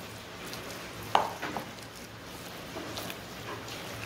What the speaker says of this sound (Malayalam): നന്നായിട്ട് ആ പീസസൊക്കെ നന്നായിട്ട് മിക്സ് ചെയ്ത് കൊടുക്കണം